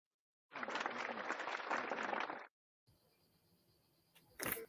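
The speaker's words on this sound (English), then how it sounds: "A round of applause to Associate Professor Julien Mrenene." Audience at a dental talk applauding a speaker: a dense burst of clapping lasting about two seconds, then it cuts off, followed by quiet room noise and a short sharp sound near the end.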